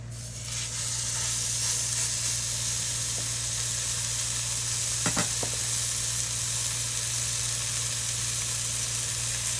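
Bacon fries in a skillet with a loud, continuous sizzle and hiss, broken by a few brief crackles and pops, heard close up with no talking.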